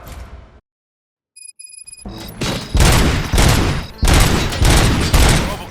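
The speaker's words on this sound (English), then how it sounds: "Gunshots? What's going on?" Heavy gunfire fills a RoboCop: Rogue City shootout in a factory, coming in loud, dense bursts after a short silence and a few electronic tones, with sustained volleys continuing to the end.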